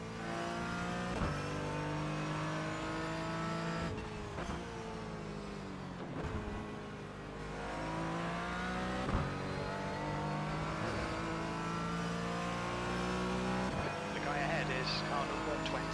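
A BMW sports car races in iRacing's Falken Sportscar Challenge, its engine whining and rising through the revs with sharp shift breaks, mixed with other cars' engines under a constant, moderately loud drone.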